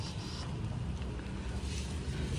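The diesel engine of a 2018 Hyundai Starex with a low-power fault runs at a steady idle, making a continuous low rumble mixed with wind-like noise and heard fairly faintly from close by.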